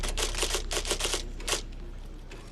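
Typewriter keys clack in the film Hidden Figures, coming in quick rhythmic bursts of strikes for about a second and a half before trailing off into quiet room tone, with no talking.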